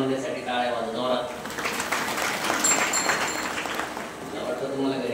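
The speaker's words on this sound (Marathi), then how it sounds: "पुरुष मंडळी तर महिला मंडळीसाठी टाळ्या वाजवा." An audience at a devotional kirtan gathering claps together in a sustained, dense round of applause that carries evenly over several seconds.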